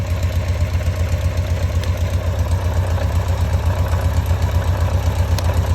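A motorcycle engine idles steadily up close, its low rhythmic thrum carrying a faint mechanical rattle from the primary chain.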